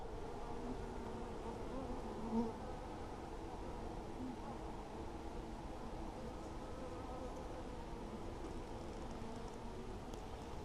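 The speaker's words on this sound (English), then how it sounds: "Got a few bees." Low, steady droning buzz of many bees in a hive, continuous and faint, with no talking.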